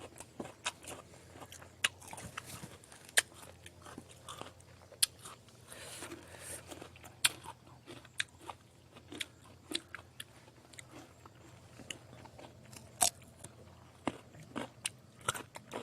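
Someone bites and chews crisp Kim Ju guava dipped in chili salt, with sharp crunches at irregular intervals over soft, wet chewing, close to the mic and fairly quiet, no talking.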